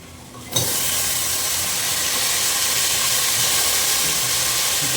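Sliced onions fry in hot oil in a pan for a drumstick mutton kulambu. A steady, loud hiss and sizzle starts abruptly after a brief quiet moment and holds unbroken, with no talking.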